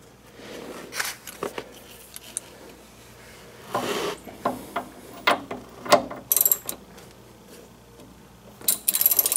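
A hand ratchet tightens a sway bar bushing bolt on a DeLorean with rapid clicking in several short bursts and pauses, each run of pawl clicks close and crisp, a few sharper metallic ticks in between, and no talking.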